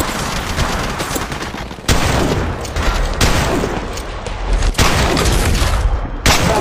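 Heavy, sustained gunfire in a firefight in Apex Legends Mobile, loud and close, with dense rapid bursts broken by brief sharp gaps.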